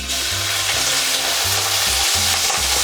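Garlic dropped into hot oil in a pot, giving a loud, steady close-up sizzle with a dense frying hiss and stirring throughout, no voices.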